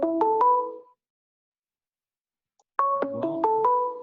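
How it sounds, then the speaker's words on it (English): A phone rings with two bursts of a stepped electronic melody, the second after a pause of nearly two seconds, heard in a quiet room during a talk on starting a nonprofit. "Is your phone ringing?"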